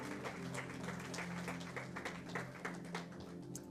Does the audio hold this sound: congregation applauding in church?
yes